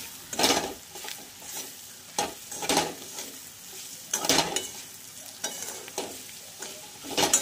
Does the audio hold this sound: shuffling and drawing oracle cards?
no